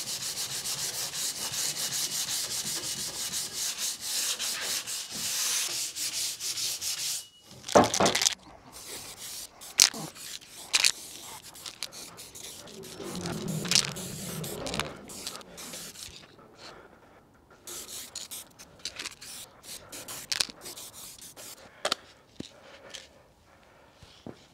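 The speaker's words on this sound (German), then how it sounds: "Also 120er Papier und leicht drüber schleifen." Light hand sanding with 120-grit sandpaper on a homemade desk: steady raspy rubbing strokes at close range, broken by brief pauses and scattered knocks and scuffs, with no talking.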